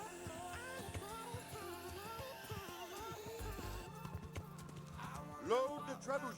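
Rhythmic clip-clop of horse hooves at a steady trot, mixed with game music and effects, with a person talking over it.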